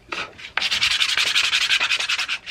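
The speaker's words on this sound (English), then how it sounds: "Grab just a little bit of sandpaper here." Light hand sanding of wood with sandpaper, a steady run of close, dry back-and-forth rubbing strokes after a couple of short initial passes, with no talking.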